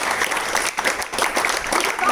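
A crowd at Nirankari Colony gives a brief burst of loud applause for the colony during a Covid-19 instruction gathering, steady, close clapping lasting about two seconds.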